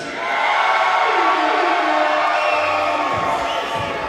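A basketball crowd at a Super League championship game cheers and shouts loudly for a player, a dense sustained roar of whoops and yells that fades slightly toward the end.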